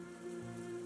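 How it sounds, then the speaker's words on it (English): Rain falling on pavement in the video game World of Goo 2, a soft steady patter heard alone for under a second over a faint low tonal hum. "The night sky pours down rain like it has a personal grudge."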